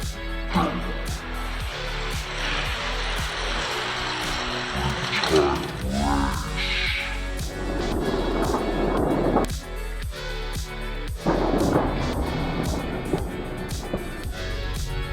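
Hot Wheels toy cars, an 84 Corvette and a Mustang, racing down a two-lane track, a run of rapid clicking and rattling over the track joints with a brief whoosh midway, alongside voices.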